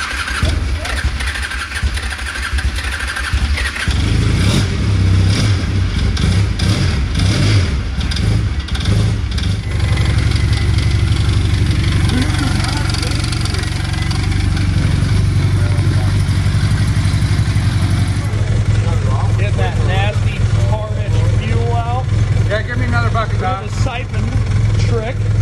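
An old engine cranks and catches, then settles into a rough, loud idle that runs on for the rest of the clip, with people talking close by over it.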